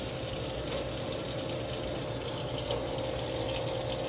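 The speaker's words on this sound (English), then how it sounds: "You see the water running." A Mr. Coffee drip coffee maker running water through while brewing, a steady close hiss and trickle with a faint low pump-like hum underneath, unchanging throughout.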